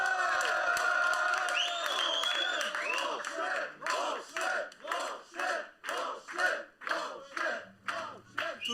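A large crowd roars and chants in a stadium, the cheering swelling into rhythmic, pulsing waves of shouts, loud and continuous throughout.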